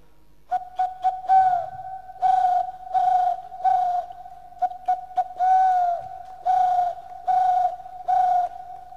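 A human voice imitates a deep-forest bird call with a series of clear, pure whistled hoots, short bursts in groups, some notes bending downward, repeated rhythmically for several seconds with no other talk.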